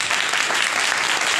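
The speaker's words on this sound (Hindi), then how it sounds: "जोर से ताली बजाए।" A church congregation claps loudly and steadily at a pastor's urging, a thick continuous wash of many hands with no individual claps standing out.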